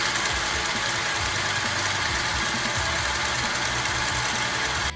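Sewing machine stitching a straight line through fabric, a steady loud mechanical rattle and hum running continuously without pause.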